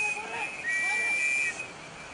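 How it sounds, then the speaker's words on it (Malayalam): A police whistle is blown on a seashore, a shrill, steady tone held for about a second and then trailing off, loud and close over background hiss. "പിന്നെ വിസിൽ വിളിച്ചത് മാത്രം മിച്ചം."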